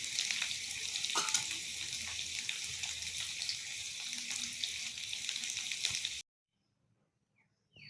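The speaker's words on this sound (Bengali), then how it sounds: "তেলের মধ্যে আমি এখন কোপ্তাগুলো ভেজে নেব।" Small round soya chunk kofta balls fry in hot oil. A steady, close crackling sizzle runs for about six seconds and then cuts off to near silence.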